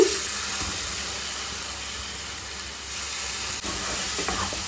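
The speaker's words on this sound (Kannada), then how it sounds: "ಈಗ ಇದಕ್ಕೆ ಈರುಳ್ಳಿ ಮತ್ತು ಟೊಮೊಟೊದು ಪ್ಯೂರಿ ಏನಿತ್ತು ಅದನ್ನು ಸೇರಿಸಿ" Onion and tomato puree sizzles steadily in hot oil with spices for paneer peas masala, a continuous close hiss and crackle at moderate level with a brief stir disturbance partway through.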